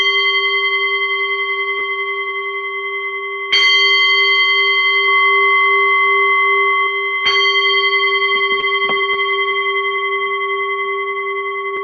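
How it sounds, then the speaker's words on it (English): A meditation bell is struck three times to open a session, each strike a clear sustained ringing tone that slowly decays and overlaps the next, heard alone in a quiet room. "I will just ring the bell and we can get started"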